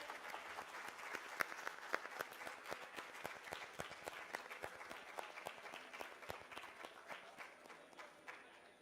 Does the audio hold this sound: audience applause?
yes